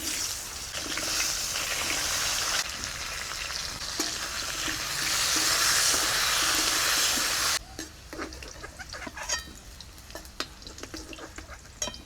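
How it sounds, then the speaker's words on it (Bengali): Potatoes frying in oil with salt and turmeric, a loud dense hissing sizzle that holds steady, then drops suddenly to quieter crackling with spatula scrapes and clicks, no talk. "ওই তেলে আলুগুলোকে নুন হলুদ দিয়ে ভেজে নেব"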